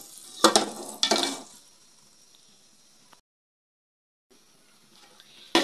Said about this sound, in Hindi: इसको अच्छी तरह हमने भून लेना है।